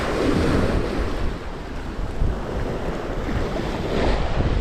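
Ocean waves washing in at a seaside fishing spot in Jazan, Saudi Arabia: steady loud surf roar mixed with wind buffeting the microphone, no voices.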